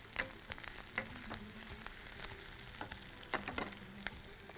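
Okra with green chillies frying in a pan, a faint, close sizzle with scattered crackles and a few sharp pops and clinks of a utensil, quiet and without speech.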